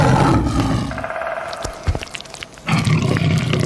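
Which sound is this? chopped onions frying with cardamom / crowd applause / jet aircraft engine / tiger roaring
tiger roaring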